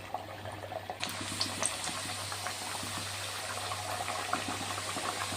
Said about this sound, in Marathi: आता याला तळून घेऊयात. चला आपले हे घारगे असे सोडायचे आहेत.